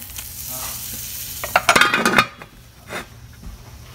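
Hot charcoal set in a biryani pot with butter, giving a sharp sizzle and hiss, preceded by a few metallic clinks of pot and utensils, then fading to a faint crackle.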